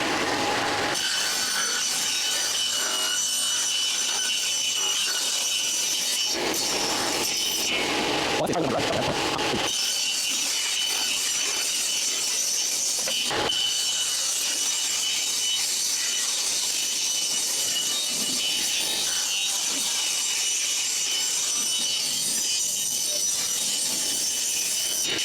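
Handsaw cutting through a wooden board for a raised planter box, a long run of steady rasping strokes close by, with a brief pause midway and a sharp knock near the middle.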